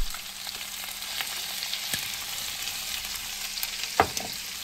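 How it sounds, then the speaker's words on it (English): Duck parts brown in a hot pan, giving a dense, steady sizzle and crackle with occasional sharper pops and a clank near the end, close and loud, with no talk. "We'll brown these off."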